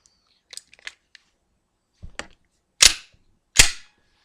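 A Walther PPS 9mm pistol is handled up close: a few light clicks and taps come first, then two sharp, louder metallic snaps, like the slide racking, separated by short silences.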